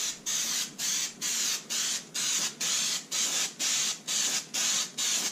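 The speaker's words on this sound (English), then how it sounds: "go to town spraying this" Spray adhesive is applied in rapid, evenly spaced hissing bursts, about ten short sprays over a few seconds, close and moderately loud with brief gaps between each pass onto stretched material.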